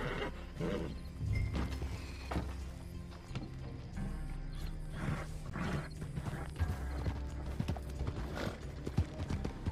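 Horse hooves clip-clop steadily in Red Dead Redemption 2 Online, a continuous rhythmic trot heard close over a low game soundscape with faint mechanical noises and no talking.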